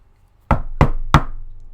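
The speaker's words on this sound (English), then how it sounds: "Morning Mist is going to knock" Three firm knocks on a closed door in a tabletop role-playing session, evenly spaced and close, each ringing briefly before fading into near silence.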